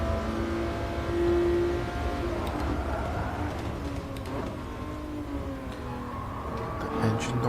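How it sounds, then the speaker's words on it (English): A 1994 McLaren F1 engine roars in GT Sport on the Monza circuit, its pitch sweeping up and down through gear changes, steady and close for several seconds with a brief voice near the end. "The engine noise is just savage."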